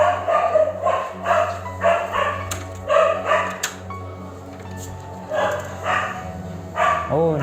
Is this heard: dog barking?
yes